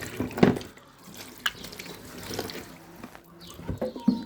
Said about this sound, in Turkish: Suyu dök.